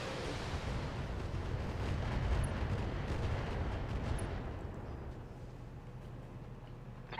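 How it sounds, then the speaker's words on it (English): A full weapons salvo fires in the BattleTech video game, a dense, roaring barrage of heavy booms and rumbling blasts that stays loud for several seconds and then tapers off, with no talking over it. "Firing a full salvo."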